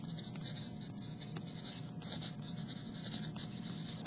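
A pen scratches across paper in short, quick strokes, faint and close in a quiet room, a dry rhythmic scribbling that pauses briefly between words.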